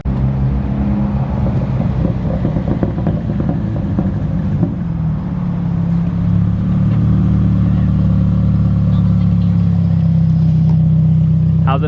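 A Nissan S13 240 race car approaches, its engine droning low and growing louder and steadier as it draws near, with no talking over it.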